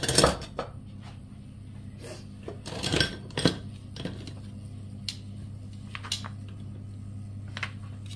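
Metal kitchen tongs clink and scrape against a pan on a hot plate while butter melts, a scatter of sharp separate knocks with a faint background hum.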